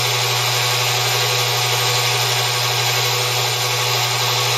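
A steady electric motor hums and whines continuously, with a broad hashy whir and a strong low drone, loud and close throughout.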